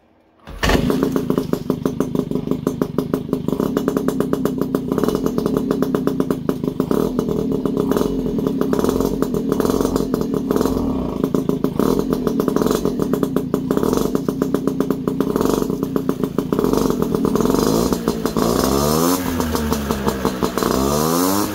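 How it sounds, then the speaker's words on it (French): A Peugeot 103 moped fitted with a new Simonini exhaust starts cold and settles into a loud, rapid two-stroke idle, a dense buzzing putter that runs steadily close by, with a couple of short throttle blips near the end. "j'ai juste fait un petit démarrage à froid comme ça"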